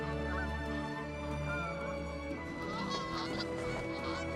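Geese honking in an animated film, a loud flock of repeated nasal honks layered over one another, continuous and close, with a flowing musical score underneath.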